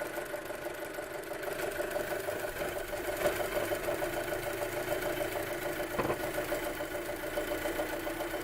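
Audi A6 2.0 TFSI engine running with the oil dipstick pulled, a steady mechanical hum with a rapid, sewing-machine-like ticking, rising slightly in pitch partway through, close and continuous with no talk.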